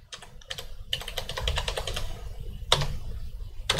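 Typing on a computer keyboard to enter a RUC tax number into accounting software, bursts of quick, close key clicks separated by short pauses, with a sharper keystroke near the end.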